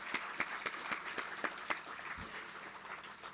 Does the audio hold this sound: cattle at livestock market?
no